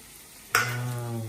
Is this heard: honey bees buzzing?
no